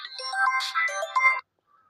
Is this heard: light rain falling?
no